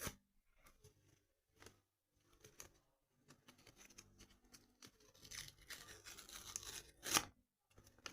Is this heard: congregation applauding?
no